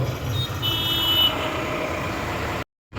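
Heavy road traffic near Vandalur's large bus terminus, heard from inside a vehicle: a dense, steady roar of engines with faint horn toots early on, ending in a brief silent break.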